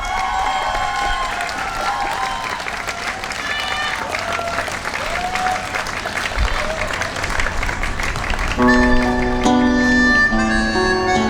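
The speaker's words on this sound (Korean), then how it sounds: "큰 박수로 환영해 주시기 바랍니다" Outdoor audience at a blood donor day celebration stage in Gwanghwamun Square clapping steadily to welcome a trot singer, sustained applause with some cheering, joined near the end by the opening bars of live music.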